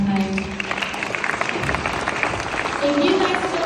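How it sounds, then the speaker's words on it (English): A town hall crowd applauds a congressman, with steady clapping throughout and voices talking over it. "Let's give him a round of applause one more time."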